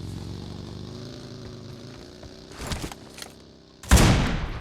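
Video game gunfire in a Turkish housing-block setting: a low vehicle-like engine hum, then a burst of shots near the three-second mark and a louder, sharper volley near the end.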